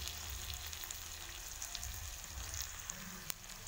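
Chopped tomato and spices sizzle and fry in oil in a pan while a rui fish curry is cooked, giving a soft, continuous crackle with scattered small pops and a faint stir, quiet and steady.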